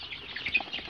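Faint, dense high peeping from a group of one-day-old local chicken chicks, rapid overlapping chirps with no talk, heard briefly.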